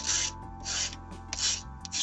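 Rhythmic back-and-forth rasping of abrasive rubbing against a hard 3D-printed plastic part, smoothing print lines, four strokes close to the microphone over a faint background hum.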